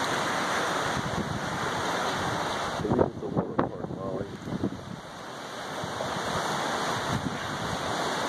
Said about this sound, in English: You get some heavy gusts here and there.